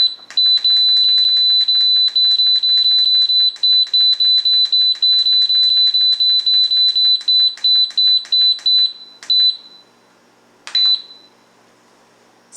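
A Carey electric pressure canner beeps rapidly and loudly, repeating steadily for about nine seconds, then a few separate beeps follow after short pauses.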